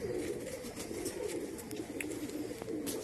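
A roughly 14- to 15-year-old pigeon in a pigeon keeper's loft coos steadily, a low rolling murmur close by that runs through the whole stretch with no talking.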